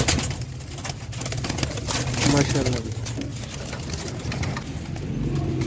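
Pigeons kept on a rooftop coo softly and flutter in the background, partly masked by someone talking over them throughout.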